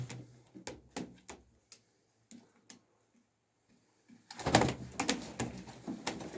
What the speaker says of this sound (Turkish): öyle kuşlar getirdim, öyle kuşlar getirdim